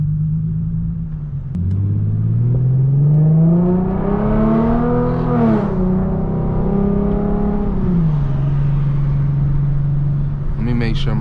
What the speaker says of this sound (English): That VQ be sounding nice.